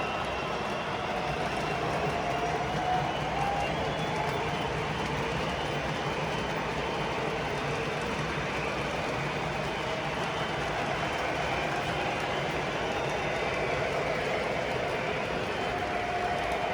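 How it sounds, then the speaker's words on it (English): A model train runs steadily along its track, a continuous rumbling clatter at an even level throughout, with no voices. "Looking back there as the train kind of snakes."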